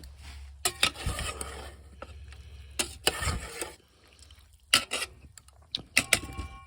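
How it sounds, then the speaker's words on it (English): A spoon stirs green beans with ham and onion in a cast iron Dutch oven, scraping and clinking against the metal in irregular bursts, with a soft sizzle between strokes. "Let me give that a mix up. I got a spoon here."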